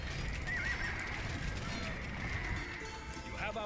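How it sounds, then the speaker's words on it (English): Horses neigh and hooves clatter in the medieval strategy game Age of Empires 2: Definitive Edition during a skirmish, a brief whinny over a busy rumble of running cavalry, with a voice speaking partly over the mix. "Oh, there goes all my horses"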